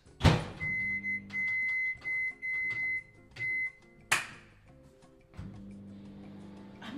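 Microwave oven in a home kitchen, with a sharp click or door thud at the start and another midway, steady humming and tonal beeps between them, then a low running hum near the end.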